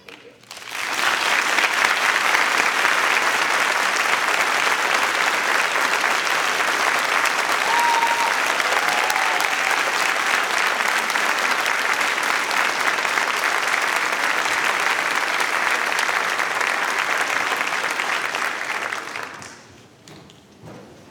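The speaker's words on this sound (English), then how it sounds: "I want to dedicate this applause, our final applause, to them" Audience at a graduation ceremony applauding steadily and loudly for about eighteen seconds, a dense sustained clatter of many hands that then fades away quickly.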